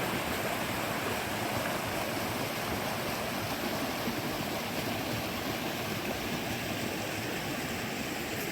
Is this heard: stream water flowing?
yes